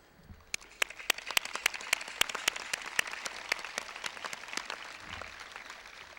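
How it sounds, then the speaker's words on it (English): Sparse applause from a graduation audience for the class of 2010 at Shawnee Mission South, with distinct individual claps popping out clearly over a thin wash of clapping for about six seconds. "will you please join me in a round of applause"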